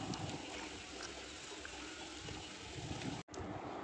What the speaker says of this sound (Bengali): জল ঝরিয়ে একটা পাত্রে তুলে নিলাম।